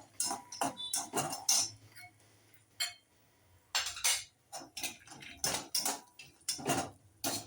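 Almonds and cashews frying in a kadhai over low gas for dink laddus, a spatula scraping and clinking against the metal in a steady run of sharp, close bursts with short pauses.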